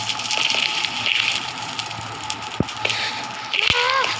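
Rushing water in a video game surges in pulsing bursts, punctuated by a couple of sharp clicks and a brief warbling tone.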